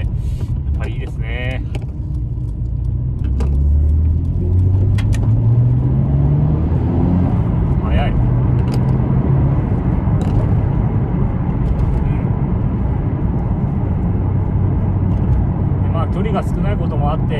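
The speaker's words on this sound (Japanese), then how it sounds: "もう昔からですねこの RB サウンドが大好きで" A Nissan Skyline GT-R 2.6 4WD with its RB engine and a Fujitsubo muffler runs steadily and loudly up close, its engine note rising and swelling in pitch as it revs. A voice is heard at times over the engine.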